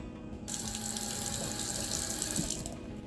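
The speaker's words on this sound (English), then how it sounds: "I'm gonna soak them for 15 minutes in water" Tap water runs steadily into a sink for soaking washed potatoes in water with baking soda, a continuous close splashing rush with no talking.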